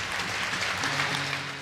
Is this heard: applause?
yes